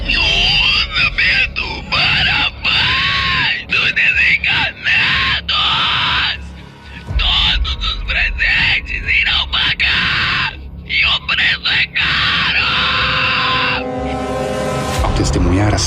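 A damned soul shrieks from a grave in a radio drama: loud, drawn-out, wavering screams and groans follow one another almost nonstop, layered with harsh, distorted noise, then give way to a thinner, rising tone near the end.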